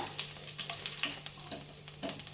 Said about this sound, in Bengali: আমি ফোড়ন দিয়ে দিচ্ছি জিরেটা, শুকনো লঙ্কাটা